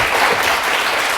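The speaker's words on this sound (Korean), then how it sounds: "저희 강의를 해주신 최고문 교수님께 다시 한번 큰 박수 부탁드립니다" Applause from a lecture audience, a dense steady burst of many hands clapping close by, with no talk over it.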